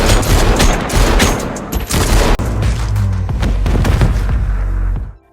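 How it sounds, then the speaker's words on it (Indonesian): Dense, loud fusillade of film gunfire with booming low-end impacts, a sustained automatic burst spraying for about five seconds before cutting off abruptly. "Ketika Haris melihat Brian, ia pun langsung memberondong Brian."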